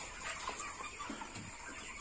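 Broiler chickens and a rooster clucking inside a poultry shed, a few soft scattered clucks over a steady hiss of background noise, fairly faint throughout.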